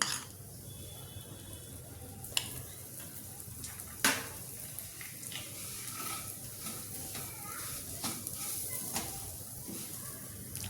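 Semolina frying in ghee for ravva laddu: a continuous close sizzle and hiss, broken by occasional scraping and tapping from a stirring spoon against the pan.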